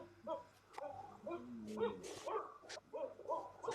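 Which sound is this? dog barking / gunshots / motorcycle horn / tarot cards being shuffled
dog barking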